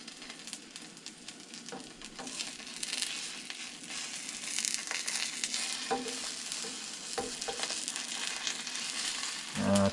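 An egg fries in an oiled pan for a sandwich, giving a close, steady sizzle with spitting crackles and a few scraping, stirring knocks of a spatula against the pan.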